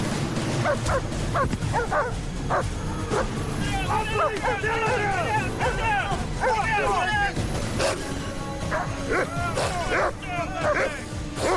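A police dog barks and yips repeatedly in loud, rapid bursts during an arrest outdoors in botanical gardens, over a busy background of voices and commotion.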